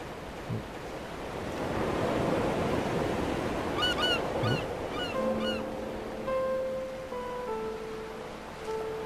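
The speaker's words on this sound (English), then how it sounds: "Another seagull." In the video game Dear Esther, a few wailing seagull cries ring out over continuous crashing surf and wind by a coastline, the calls coming in short clustered bursts midway through.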